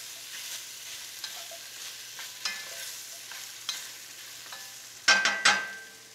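Beef bourguignon sauce cooking in a pot while being stirred, soft sizzling under light scraping strokes, ending in a quick burst of clattering stirs.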